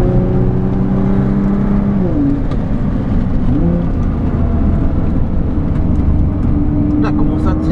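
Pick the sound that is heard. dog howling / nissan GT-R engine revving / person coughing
nissan GT-R engine revving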